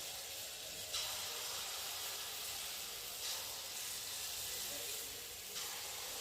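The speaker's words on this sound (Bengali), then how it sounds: "দিয়ে আবার ওরকম অল্প অল্প করে দিয়ে তারপরে ভেজে নেব" Steady, loud sizzle and hiss of palm fruit fritters (taler bora) frying in hot oil, continuous throughout with slight surges and no talking over it.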